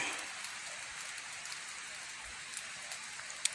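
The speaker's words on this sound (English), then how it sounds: "the weather sucks, it's raining" Steady rain falling on a gravel bar during outdoor exploring, a continuous soft hiss of drops with occasional louder single hits, and a voice talking faintly underneath.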